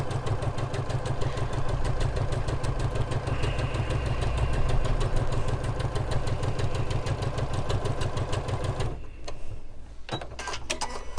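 A sewing machine stitching the back pieces of a cushion cover, a fast steady motor whir with rapid needle chatter running close for about nine seconds before stopping, then a few small handling clicks.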